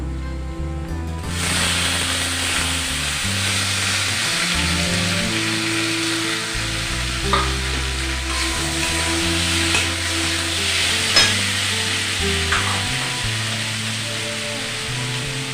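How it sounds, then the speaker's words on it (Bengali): Boiled pumpkin and potato sizzle steadily in oil in a frying pan, with occasional clinks and scrapes as the pieces are stirred; a continuous, close frying hiss with no talk. "এবার দিয়ে দেবো সেদ্ধ করা কুমড়ো আর আলু।"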